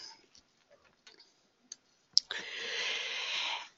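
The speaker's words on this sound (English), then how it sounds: "So I'm going to click on download." A computer mouse clicks on a download button, a few faint sharp taps in near silence, then a louder click followed by a steady broadband hiss.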